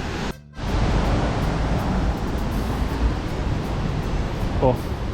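Chat Trakan waterfall, a multi-tiered falls, gives off a steady, dense rush of water that fills the scene after a brief dip at the start, with a voice briefly audible near the end.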